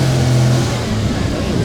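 A Ferrari engine revving loudly and close at an outdoor car show, a sustained droning growl with a steady pitch that drops slightly partway through.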